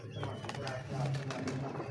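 Pigeons of a prized breed coo softly in low, throaty pulses, close by, with rustling and light movement noise around them and some faint human voice in the background.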